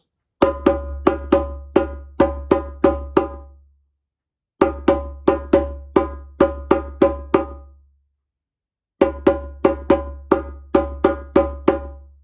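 Three bursts of crisp hand drum strokes, each a quick run of even hits with ringing tone, separated by short silences.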